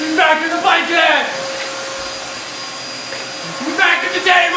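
A Hoover Elite Deluxe Rewind Megacharge Swifter vacuum cleaner going over a blanket, a constant close whirring roar with a faint high whine, while voices talk over it at the start and again near the end.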